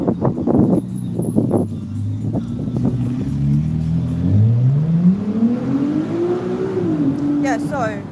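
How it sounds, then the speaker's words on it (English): A passing car's engine revs up with a rising, then levelling whine, loud and close over several seconds, with voices around it. "That's a nice car, guys."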